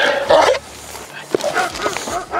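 A Presa Canario dog gives a few short, loud barks and yips close by, with brief pauses between bursts.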